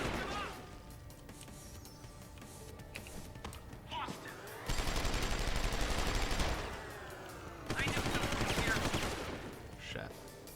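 A large gun fires in Deus Ex: Human Revolution, with two long sustained bursts of heavy automatic fire, loud and close, over quieter ambient game noise.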